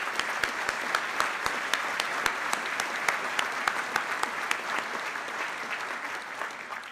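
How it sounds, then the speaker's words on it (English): An awards banquet crowd claps continuously with a few sharper individual claps standing out, fairly distant and steady before easing slightly at the end. "please give them another round of applause."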